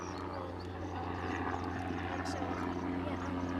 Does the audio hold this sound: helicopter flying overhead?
yes